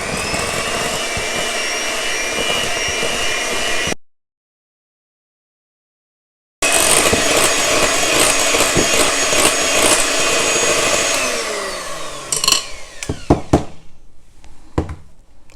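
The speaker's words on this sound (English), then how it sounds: "So we're going to our electric mixer now. So I'm going to start mixing it now." An electric mixer whirs steadily and loudly as it beats tiramisu cream, cuts out for a few seconds, then runs again before winding down into scraping and knocking at the end.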